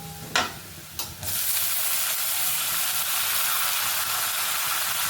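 Tomatoes drop into a hot pan over softened onions in a home kitchen, two soft thumps followed by a loud, steady hiss of sizzling and frying that holds to the end.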